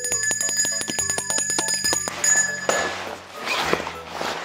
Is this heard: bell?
yes